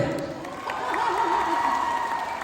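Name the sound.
audience applause at a film trailer launch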